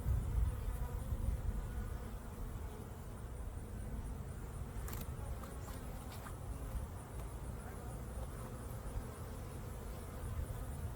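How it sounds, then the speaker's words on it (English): Steady low droning hum of many bees buzzing around a hive on a hot day, continuous and fairly close, with a few faint clicks over an outdoor background. "Got a bunch of good bees going on there."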